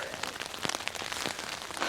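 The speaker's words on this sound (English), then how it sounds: "It's raining pretty good out there." Rain patters steadily on a tent from inside, a dense close spattering of drops with no voices.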